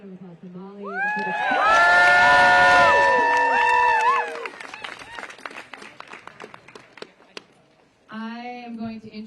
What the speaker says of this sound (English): round of applause to Molly